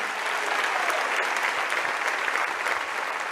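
A church audience at a spiritual gifts seminar applauds in a dense, even wash of many hands, loud and sustained throughout with no speech on top.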